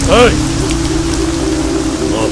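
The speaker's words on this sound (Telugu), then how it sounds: "ఈ వర్షం ఆగేలోగా" Steady rain pours down in a film scene, a dense, even hiss running throughout, with a brief voice at the start and again near the end.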